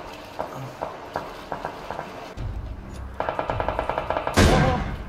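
Gunfire in the video game PUBG: scattered single shots, then a rapid automatic burst of close, sharp reports, ending in a louder blast-like crack.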